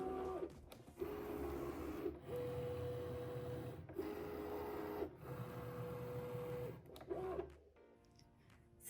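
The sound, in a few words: LOKLiK Crafter cutting machine cutting cardstock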